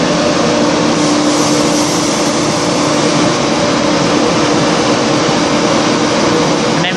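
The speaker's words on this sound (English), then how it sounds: "So see the bit when this train departs from Needhamarket to Ipswich." A passenger train pulls away from Needham Market station on the Great Eastern Main Line toward Ipswich, a steady loud rumble and hum of engine and wheels running throughout with no pauses.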